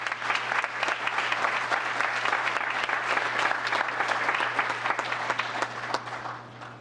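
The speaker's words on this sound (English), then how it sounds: "Big round of applause" A town council meeting audience breaks into a big round of applause, steady crowded clapping over a constant low electrical hum, holding evenly for several seconds.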